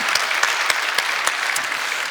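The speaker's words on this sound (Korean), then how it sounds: "우리 감사의 박수 올려드리겠습니다." A congregation claps steadily in sustained applause during a Korean church Sunday service, a dense, lively patter with occasional sharper claps standing out.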